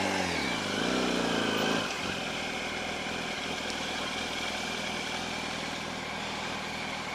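A CX 500 motorcycle engine idling nearby, a throaty revving blip at first that settles into a steady, even low putter with a faint whine above.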